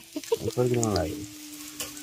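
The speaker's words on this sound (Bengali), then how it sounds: "রসুন আর লঙ্কাটাকে ভেজে নিয়েছি, একদম বেশি কড়া করে ভাজা যাবে না।" Crushed garlic and dried red chili fry in hot oil with a soft, steady sizzle, and a short voiced sound rises briefly over it near the start.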